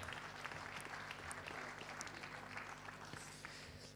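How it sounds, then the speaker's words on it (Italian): A small audience at a public health meeting in Casalecchio di Reno gives faint, steady applause for four seconds with a low hum beneath it. "gli facciamo comunque un grande applauso"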